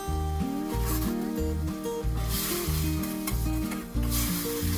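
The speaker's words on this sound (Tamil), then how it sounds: "நல்லா எண்ணெயிலேயே ஒரு 5 நிமிஷம் நல்லா சுருண்டு வேகட்டும்." Steady crackling sizzle of a thick paste frying in oil for garlic dosa, with scraping stirring strokes, over a loud rhythmic music track.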